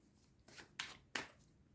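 Tarot cards being shuffled by hand, three quick riffling bursts close up, soft and papery against a quiet room.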